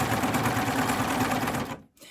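A coverstitch machine sews stretch cotton jersey binding cut from a T-shirt scrap, a dense, steady mechanical whir running loud and continuous for nearly two seconds before stopping abruptly, with a brief faint resumption after.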